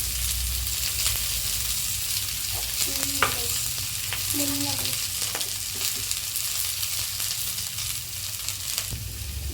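Onions and cashews sautéing in a pan for a tomato-free chana masala gravy, a steady low sizzle with occasional spatula scrapes and clinks, close and even, with no talk.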